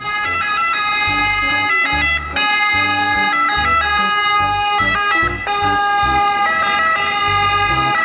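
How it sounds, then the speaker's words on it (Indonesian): A toy ambulance siren plays a loud, continuous electronic wail with stepped, repeating tones and a pulsing low beat, alone throughout. "Di sini ada mobil ambulan."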